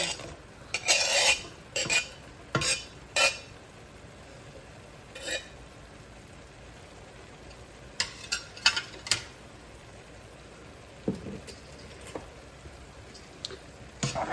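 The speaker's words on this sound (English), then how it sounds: "Mix your onion right into your turkey." A utensil stirs diced yellow onion into browning ground turkey in a pan, giving sporadic scraping clinks against the pan over a low sizzle, close and without speech.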